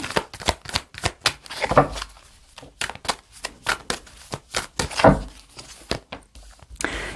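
Tarot cards are shuffled by hand for a reading, a close run of quick papery riffles and slaps in uneven bursts, with short pauses between them and no talk.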